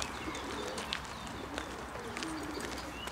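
Pigeons cooing outdoors in Nitra, soft repeated coos and faint chirps over a steady background hum, fairly distant and quiet.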